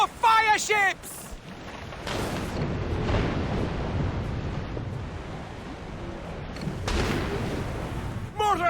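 Mortar and cannon fire from a naval battle in Assassin's Creed Rogue rumbles as heavy booming blasts and sustained low roar, with shouted voices briefly over the din at the start and end.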